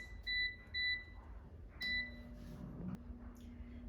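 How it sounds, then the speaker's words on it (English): A kitchen air fryer signals the end of a cooking cycle with three short, bright electronic beeps in an even rhythm, close and clear, over a low hum and faint handling noise. "Now the air fryer is done cooking"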